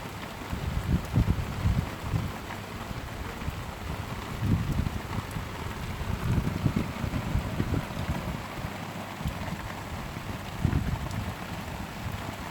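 Heavy rain pours down steadily in Scotland during a thunderstorm, a dense broadband hiss of drops with gusts of wind buffeting the microphone, continuous and fairly loud throughout with no voices.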